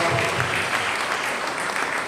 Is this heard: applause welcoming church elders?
yes